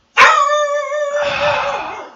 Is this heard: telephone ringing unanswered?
no